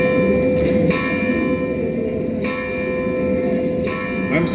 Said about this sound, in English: The bells you hear are ringing to warn the people to evacuate the city as the Martians approach.